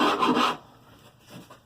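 A sharp chisel scraping wood while cleaning up a ukulele side joint: one short rasping stroke, close and distinct, followed by a fainter second scrape after a quiet pause.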